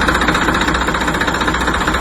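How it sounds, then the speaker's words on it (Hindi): A tractor engine runs loud and close after starting, a rough rapid knocking chug repeating steadily over a heavy low rumble, with no voices. "ट्रैक्टर को स्टार्ट कर देता है"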